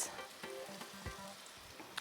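Apple pieces fry in a hot pan, giving a soft, steady sizzle with a few light clicks of a utensil, close and fairly quiet.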